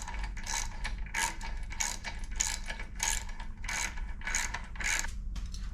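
Ratchet wrench tightening bolts on a Mercury V8 outboard, rapid repeated ratcheting clicks in a steady rhythm, close up over a constant low background hum.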